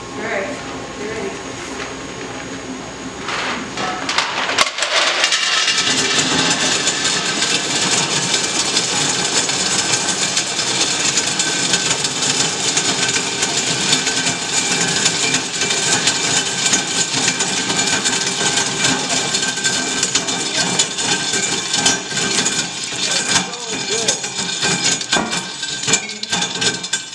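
Patriot 600 nut cracker machine cracking hard black walnuts, starting with a quiet hum and people talking, then a sudden loud, continuous rattling clatter of cracking shells and machinery running steadily to the end.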